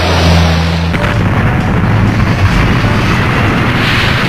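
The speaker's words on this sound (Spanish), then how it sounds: "Corriendo entre las explosiones." A loud, dense roar of explosions in an action film teaser, opening with a deep low thud and then a sustained rumbling blast that fills the whole stretch.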